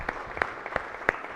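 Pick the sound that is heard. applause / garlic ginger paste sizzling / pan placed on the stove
applause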